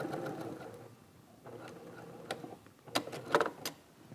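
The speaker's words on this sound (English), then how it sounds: "So we'll stitch a nice straight line here." A sewing machine runs a straight line of stitching along a fabric tuck, whirring in short bursts with pauses between, quiet overall, with a few sharper clicks near the end.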